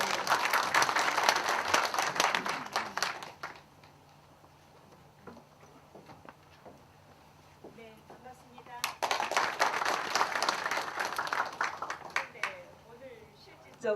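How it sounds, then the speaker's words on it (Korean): An audience at a university forum on regional higher education breaks into loud, sustained applause, fades out for a stretch of quieter room noise, then claps again just as strongly. "큰 박수 부탁드립니다."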